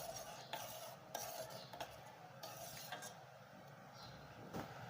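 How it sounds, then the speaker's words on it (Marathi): Sweet rice kheer with sugar boiling in a pot, with a spoon stirring and scraping against the pot over a steady low bubbling hiss; fairly faint and close. "साखर टाकलेल्याला चांगली अशी उकळी येऊ द्यायची चांगली शिजू द्यायची"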